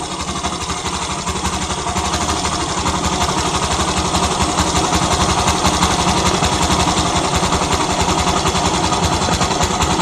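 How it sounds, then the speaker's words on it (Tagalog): A Yamaha YTX motorcycle engine idles during carburetor adjustment, a loud, close, steady rapid putter with an even pulsing beat throughout. "So naririnig nyo yung andar humihina na bumababa yung minor."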